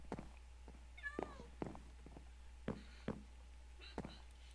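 A Minecraft cat mews several times in short rising calls among scattered clicks and soft knocks from gameplay, all fairly faint over a low steady hum.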